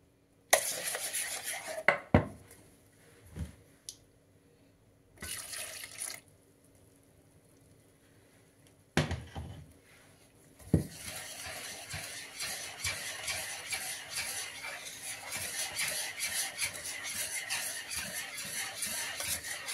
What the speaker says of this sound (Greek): Και θα ανακατέψω μέχρι να γίνει ένας ρευστός χυλός.